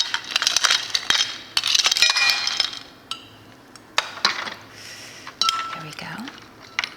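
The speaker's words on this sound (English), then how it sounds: "Then I'm going to add ice. I'm gonna use my fingers." Ice cubes dropped by hand into a glass of raspberry Earl Grey tea, a cluster of bright clinks and rattles followed by scattered chinks, with someone talking over them.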